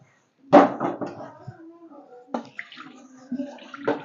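Water is poured into a pan of beef masala, starting with a sudden splash and followed by intermittent sloshing while a person talks over it.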